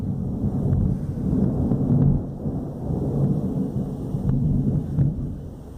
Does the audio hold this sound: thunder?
yes